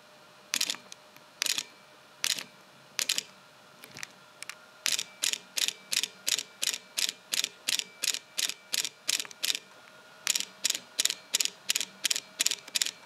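A Panasonic Lumix GH5 II mirrorless camera fires its shutter in several modes, first a few spaced single clicks, then a rapid, evenly paced burst of crisp mechanical snaps, close and clear against a quiet room.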